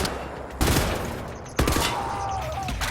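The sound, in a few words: gunfire in Wolfenstein: The New Order video game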